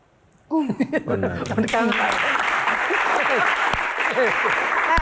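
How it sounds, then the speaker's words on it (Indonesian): A live audience at a Q&A stage event bursts into loud, sustained applause after a brief burst of speech and laughter, the clapping dense and continuous to the end. "Tepuk tangan sekali lagi."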